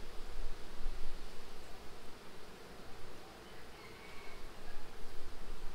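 A honeybee colony hums in an opened hive during an inspection in Jamaica, a dense, close buzz that swells and dips continuously, with no voices.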